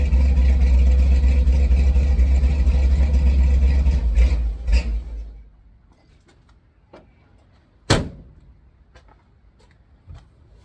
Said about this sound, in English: little sneak peek of how this car sounds